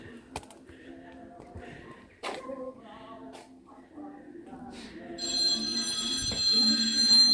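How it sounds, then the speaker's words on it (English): A telephone rings indoors at Hughenden Manor, a repeated electronic bell tone that grows more insistent toward the end, with faint background noises and clicks around it. "Phone's ringing"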